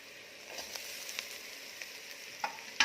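Grated coconut roasting with browned onions in a pan for a Malvani chicken curry, giving a steady soft sizzle with faint scraping stir clicks and a sharper crackle near the end, close and without talk.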